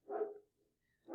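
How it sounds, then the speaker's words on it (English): A dog barking outdoors, two short loud bursts of barks separated by a brief pause, heard alone with no talk. "Sorry for my dog barking out there."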